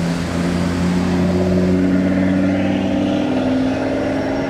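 An Audi RS3 drives past on a Monaco street, its engine a steady, fairly loud mid-pitched drone that holds through the moment and eases slightly toward the end, with no talking.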